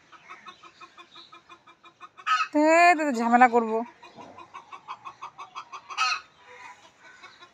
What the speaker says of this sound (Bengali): কার মুরগি আসে বসে ছাদের মধ্যে